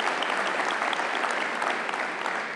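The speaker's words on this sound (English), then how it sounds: "Let's give the Lord another round of applause if we could this morning." A church congregation applauds during a morning service, producing a dense, steady wash of loud clapping from many hands that holds without a break.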